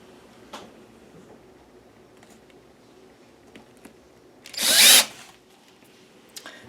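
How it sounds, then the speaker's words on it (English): One short, loud burst of a power drill whirring as it drills holes through an old book's cover in a quiet room, surrounded by faint clicks and handling noises. "I'm going to drill 3 holes as close as I can in that center"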